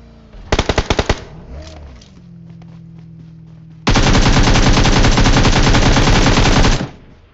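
Gunfire in a mobile battle royale game: a short burst of rapid automatic shots, a pause with a lingering hum, then a long sustained stream of loud, close machine-gun fire that cuts off sharply.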